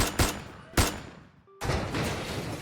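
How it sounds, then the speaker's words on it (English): Three sharp video game gunshots crack in quick succession, loud and close, with decaying echoes and a sustained burst after the last. "Suddenly, as several gunshots rang out, piercing my eardrums."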